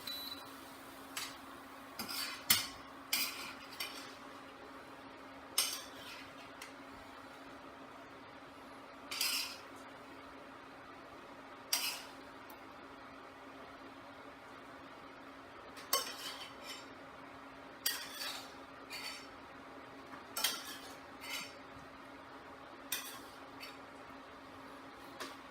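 Dishes and utensils clink in a kitchen as tofu is served over rice, with scattered sharp clicks and taps at irregular intervals over a steady low hum, fairly faint and without talk.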